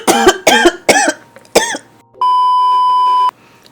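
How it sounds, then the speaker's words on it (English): A woman coughs hard in a quick string of four harsh, close barks with short gasps between, followed by a steady electronic beep tone lasting about a second. "I almost died of cough."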